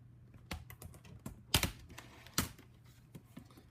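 A laptop keyboard is pried and lifted out by hand, giving a series of sharp plastic clicks and snaps at uneven intervals, close and fairly quiet.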